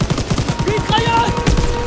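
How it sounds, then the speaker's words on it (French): Rapid machine gun fire rattles in a fast, even rhythm during a train battle in Call of Duty WWII, loud and continuous with faint game sounds layered in. "Mitrailleuse!"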